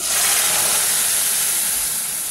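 Hot tempering with asafoetida is poured onto cooked dal, giving a loud, steady, bright sizzling hiss that holds throughout and fades slightly at the end.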